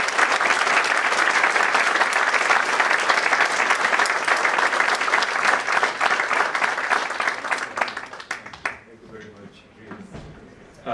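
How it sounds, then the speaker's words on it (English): Thunderous audience applause fills a lecture hall at the Pune International Centre, dense and steady for about eight seconds before thinning into scattered claps and fading out. "give a thunderous applause"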